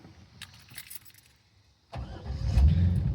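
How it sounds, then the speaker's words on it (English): A Corvette with a manual transmission cranks and fires up, a loud close engine roar that rises and holds after a brief jingle of keys and a quiet lead-in. "Start the car back up just like we did before."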